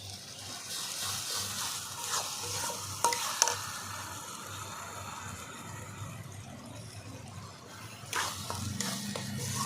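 Browned onion frying with ground pointed gourd peel paste in a village kitchen pan, a continuous soft sizzle with intermittent stirring scrapes and clinks, close but fairly quiet, with no talking.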